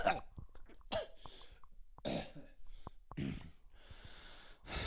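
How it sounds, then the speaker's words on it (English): A person coughs repeatedly in harsh, close bursts, mixed with snorting, throat-clearing and breathy gasps between the fits. "That's all the coughing you're doing."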